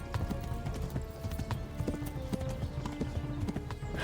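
Horse hooves clip-clopping at a steady, rapid gallop in the Kingdom Come Deliverance video game, moderately close and continuous with no talking.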